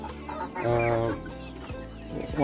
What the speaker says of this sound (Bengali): অনেকগুলো মুরগি আপনি দেখতে পাচ্ছেন এখানে রাখা রয়েছে